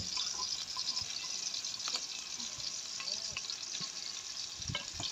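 Crushed ginger and garlic fry in oil for a green chilli recipe, a steady soft sizzle with faint stirring scrapes, close and fairly quiet.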